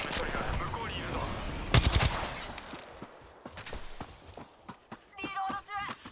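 Gunfire rings out in the video game Apex Legends as a burst of loud rapid shots and scattered single cracks, followed by sharp clicks and clattering, with a character's voice speaking over part of it.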